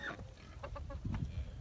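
Chickens on a farm on a cold winter morning, clucking softly in a few short, close calls over a low rumbling background, with ducks nearby and no talk.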